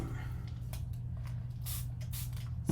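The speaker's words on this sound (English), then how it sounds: "spray some water on my finger and wipe that off" A few short, soft hisses of a spray bottle misting water onto a finger, quiet and close in a calm room.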